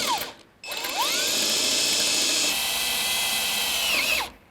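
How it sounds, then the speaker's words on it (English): A power drill whines as it bores out stripped, rusted Phillips screws on a 1955-1957 Chevy wagon, the motor spinning up, holding a steady loaded pitch for about three seconds, then winding down; close and fairly loud. "So we're going to have to drill them out"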